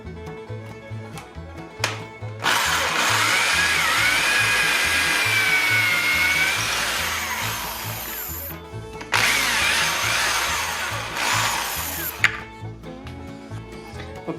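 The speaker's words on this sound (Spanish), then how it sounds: "voy a utilizar una broca del tamaño del eje y vamos perforando" A power drill fitted with a bit matching the axle size bores into wood for gear axles, giving two sustained whining bursts close up with a short pause between them.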